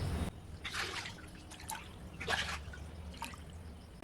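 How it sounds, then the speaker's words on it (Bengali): Chhana, fresh cottage cheese, is rinsed in clean water, with soft splashing and dripping pouring in a few irregular bursts, close and fairly quiet, with no talking. "এখন পরিষ্কার জল দিয়ে 3-4 বার ভালো করে ধুয়ে নিতে হবে"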